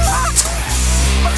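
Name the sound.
Canada geese honking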